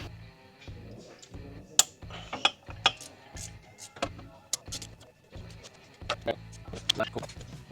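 Hand tools work a Torx T30 bolt on the engine of a MK5 Supra under a high-horsepower turbo build, giving repeated sharp metallic ratchet clicks and clunks in an irregular rhythm, close and moderately loud.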